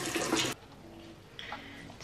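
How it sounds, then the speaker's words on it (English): Running tap water gushing briefly into a sink for hand washing, a loud close burst of flow that cuts off abruptly, followed by faint trickles and drips. "I'm just gonna wash my hands"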